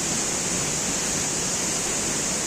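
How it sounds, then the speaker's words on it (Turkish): Aktaş waterfall near Akçakoca in winter, a steady, loud rushing roar of falling water with broad hiss and no pauses, heard close and alone. "Akçakoca'nın Aktaş Şelalesi."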